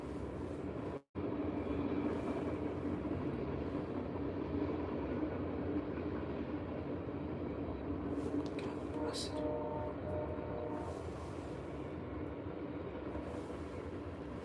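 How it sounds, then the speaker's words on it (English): A train rolls past along nearby tracks as a steady, broad rumble with clanking and a brief high squeal partway through, continuous throughout, with a quiet voice briefly underneath. "you did hear a train."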